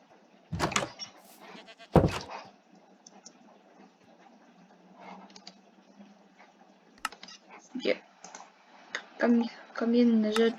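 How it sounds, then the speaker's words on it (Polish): Sheep bleat in Minecraft, several short calls near the end, alongside keyboard typing clicks and someone speaking in the background. "Trzy owce."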